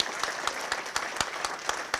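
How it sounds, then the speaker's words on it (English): An audience applauding presenters at a science pitch finale, steady dense clapping from a crowd, even and sustained throughout. "How about we give our first 6 presenters another round of applause?"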